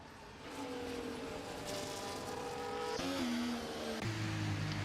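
Several F1 cars race in a line on the Australian circuit in the F1 24 video game, with engines whining and pitching down as they brake and slow, steady and loud throughout.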